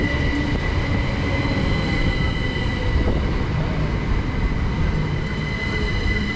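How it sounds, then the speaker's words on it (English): A Class 377 electric multiple unit train rolls into a station with a dense, steady rumble, faint wheel squeal and hum filling the air, loud and nearby. "Our train is here"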